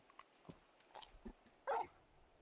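Torgal, the big dog in Final Fantasy 16, gives a short, sharp bark near the end, after a few faint, soft yips and rustles in an otherwise quiet scene.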